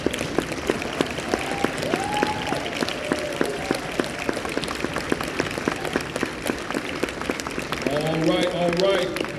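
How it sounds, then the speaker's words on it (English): An audience claps for a panel of speakers at an economic empowerment church event, a sustained patter of hands that swells toward the end while someone talks over it. "Can y'all clap for them, please?"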